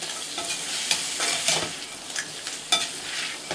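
Crab masala frying in a pan while a spatula stirs it, giving a steady sizzle broken by repeated scraping strokes and light clatter, close and loud.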